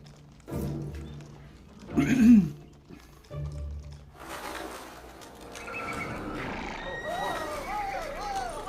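A horse whinnies briefly amid clattery background noise, with people talking and exclaiming around it; other animal-like calls warble near the end.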